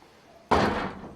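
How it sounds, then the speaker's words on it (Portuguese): A house door bangs shut once, a sudden loud slam that cuts through a quiet room and then fades. "da minha porta ali está batendo"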